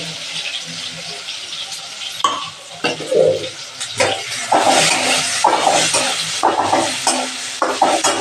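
Garlic and cumin frying in a pan for Satara thapi vadi, a loud steady sizzle with repeated stirring scrapes and bursts of spattering throughout.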